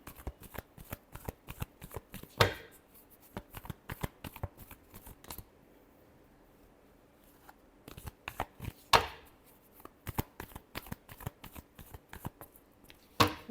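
A deck of tarot cards is shuffled by hand in repeated close, crisp riffling bursts with short pauses and a few louder snaps, with no talking.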